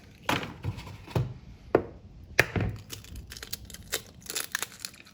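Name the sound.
eggs being cracked for Swedish meatballs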